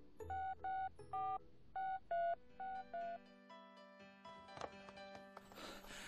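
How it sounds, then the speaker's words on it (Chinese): A telephone keypad sounds seven distinct, evenly spaced dialing beeps, followed by layered electronic ringing and line tones, quiet and close. "哎，我打个电话。"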